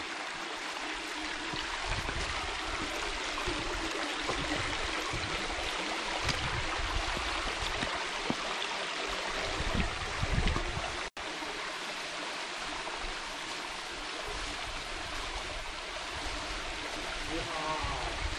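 A steady, broadband rush of water falling 208 feet at Hemmed-in Hollow Falls fills the scene continuously, fairly close and loud, with faint voices occasionally underneath.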